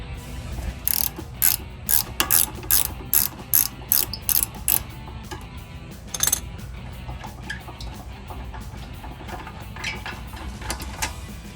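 Ratcheting wrench clicking in short repeated bursts while a bolt is loosened on the brake caliper bracket of a 2012-2014 Dodge Charger, close and crisp, followed by quieter metal handling.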